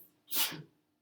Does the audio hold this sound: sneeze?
yes